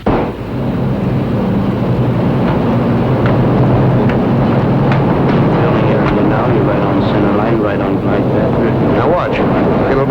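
Propeller airliner on final approach to a runway during the Berlin Airlift, a loud continuous engine roar that holds steady throughout, with talk underneath.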